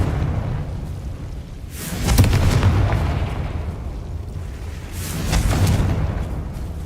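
Two booming blasts from a Confringo fire spell in Hogwarts Legacy, each a broad explosive burst rising out of a dense rumbling game soundscape, the first near the two-second mark and the second about three seconds later, with no voices.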